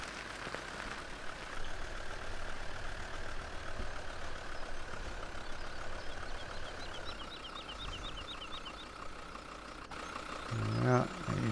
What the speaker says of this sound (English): We shall now park our tractor there, get the Land Rover up behind us.